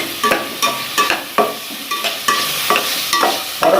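Shredded cabbage stir-fried for restaurant-style Chinese fried rice, loud sizzling with rhythmic spatula scrapes and tosses repeating about every half second, close up and without talk.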